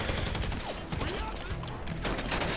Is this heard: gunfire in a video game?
yes